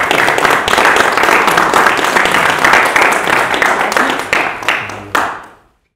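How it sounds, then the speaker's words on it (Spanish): Audience applause at a Spanish-language panel discussion on citizen movements, dense and sustained clapping that fills the room for about five seconds, then tapers off and stops. "Propongo un aplauso."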